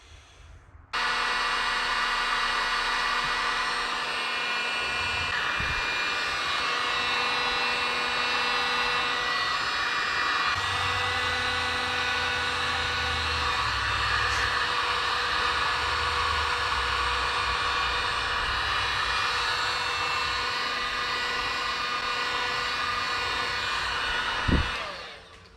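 A new heater blower motor fan in an AMX runs after being wired in, giving a steady, loud whirring hum that starts after a second of quiet and continues evenly, ending with a brief click near the end.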